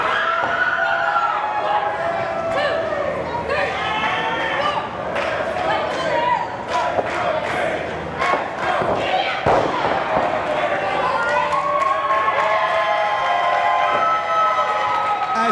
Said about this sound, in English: KiLynn King, once again, feeling the adulation of this crowd here in Hialeah